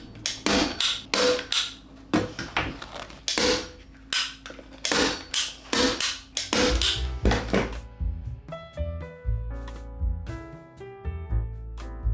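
Sharp, repeated hammer-like knocks from tacking fabric onto a vanity stool being reupholstered, loud and close in an irregular rhythm, then a lighter stretch of softer taps and scraping toward the end.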